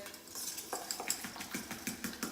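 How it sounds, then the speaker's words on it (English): Banana pancake batter with egg mixed by hand, a quick run of rhythmic scraping and clinking strokes of a utensil against a bowl, close and moderately loud, with no voices. "Just a quick mix there."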